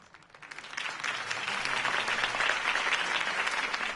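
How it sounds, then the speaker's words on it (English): A crowd applauds a mayoral campaign speech, the clapping swelling quickly from quiet into dense, sustained applause. "If only Mr. Wayne, my campaign's largest backer, could have heard that applause"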